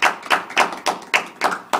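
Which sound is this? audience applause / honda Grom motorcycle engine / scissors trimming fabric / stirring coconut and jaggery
audience applause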